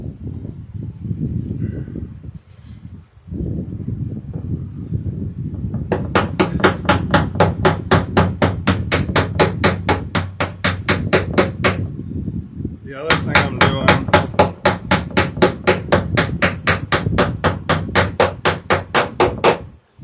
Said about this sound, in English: The other thing I'm doing with this backing block when I'm riveting is when I put the block up against the wood